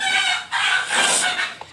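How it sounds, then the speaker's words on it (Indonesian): A Minecraft chicken makes a few quick clucking, crowing-like calls in a short run of bursts, loud and close with no talk over it. "ayam ya guys, maaf ya. Suaranya."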